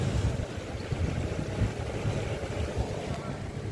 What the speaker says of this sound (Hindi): यहाँ पे गाड़ी कैसे जा रहा है पानी में